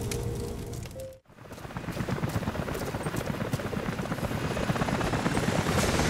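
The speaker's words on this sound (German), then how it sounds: "Helikopter sind unterwegs zu Ihnen." In the video game Rise of the Tomb Raider, a helicopter's rotor drones in a steady, loud chop that fills the scene after a brief cut near the start.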